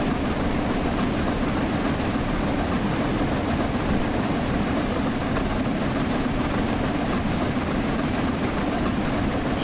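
Flying Scotsman steam locomotive pulling away and accelerating in Train Sim World 4, a steady, dense rumbling roar that holds evenly throughout with no talk over it.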